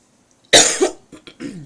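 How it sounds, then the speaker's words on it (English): After a moment of silence, one loud, close cough bursts out, followed by a few smaller breathy coughs and sounds. "I coughed in my hand."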